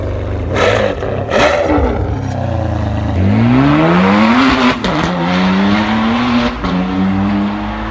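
A Ferrari 599 GTB races in Need for Speed Shift, loud and close. The engine revs climb through gear changes with rising whines, and tires squeal and skid early on.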